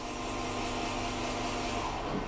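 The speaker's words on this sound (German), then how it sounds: "Während das Bohrwerk jetzt noch weiter läuft" A boring mill runs steadily while cutting the cylinder bores of an Audi RS3 engine block, giving a continuous, even mechanical rush and whine with no breaks or talking.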